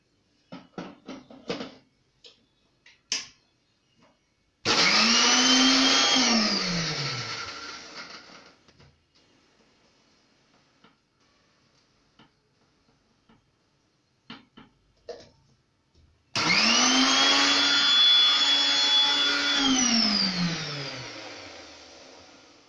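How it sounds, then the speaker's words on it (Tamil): A kitchen mixer grinder coarsely grinds ingredients for fish aviyal in two loud bursts of whirring, each running several seconds and then winding down, with quiet clatter in between. "இதை போட்டு கொர கொரப்பாக அரைச்சிக்கோங்க"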